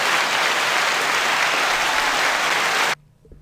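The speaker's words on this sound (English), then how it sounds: "Round of applause for you guys." Applause from a small group, a dense, steady clapping that stops abruptly after about three seconds, followed by near silence.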